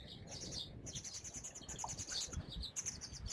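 Small birds chirp and tweet in a wetland doline, with repeated high, bright calls in quick, overlapping bursts, moderately close and fairly quiet, with no talking.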